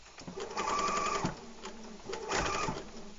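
A sewing machine stitches a knit band onto a garment, slowing carefully over a seam: two close, steady mechanical whirring runs with a brief pause between, loud and alone.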